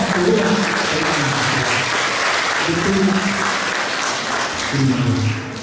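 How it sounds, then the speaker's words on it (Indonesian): An audience at a church farewell gathering applauds Pak Kuasin with loud, sustained clapping that fills the whole stretch and fades near the end, while a voice speaks over it at intervals. "maju aplaus tangan untuk Pak Kuasin ya banyak aplaus"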